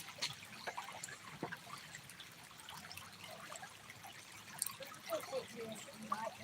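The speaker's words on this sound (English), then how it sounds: "We're doing our backwash right now." Water running during a backwash while prospecting for gold outdoors, a soft uneven trickle and splash that continues at low level with occasional louder drips.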